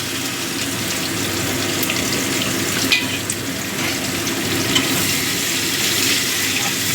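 Chopped onion dropped into hot oil with whole cardamom, cloves and cinnamon, frying with a steady broadband sizzle for a chicken kasha, continuous and fairly loud, with faint kitchen clatter and no talk.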